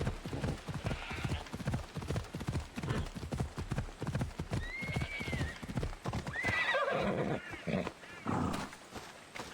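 Steady clip-clop of horse hooves at a brisk trot in Assassin's Creed Odyssey, with a whinny and some roaring animal sounds layered on top, all synthetic and game-like.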